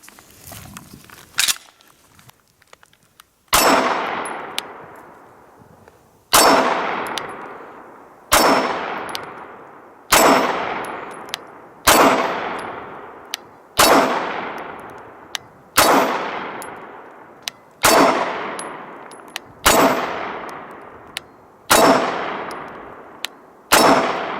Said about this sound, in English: here is the Walther PPQ in 9mm, one of our favorites